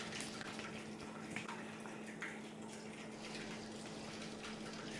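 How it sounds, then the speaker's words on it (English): A Robobrew V3 brewing system's pump recirculates beer mash, giving a steady, quiet watery rush with a constant motor hum underneath and no talking. "So I've got the pump on recirculating."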